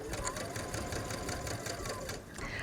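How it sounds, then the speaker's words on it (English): A sewing machine stitches fabric down to a marked neckline line on a top, running in a steady, rapid mechanical rhythm close up for the whole stretch, with a slight change in tone near the end. "I'm going to stitch right down to that line, or where my snip is"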